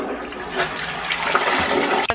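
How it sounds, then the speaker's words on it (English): A toilet flushes with a loud, continuous rush of swirling water that runs steadily for about two seconds before a brief gurgle and drop at the end. "I flushed this one down a toilet."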